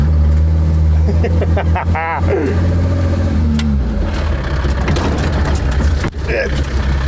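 Single-axle-drive supply and evacuation vehicle rolling over rough terrain, its engine rumbling steadily and rising briefly as it revs, with a person talking over the drive throughout.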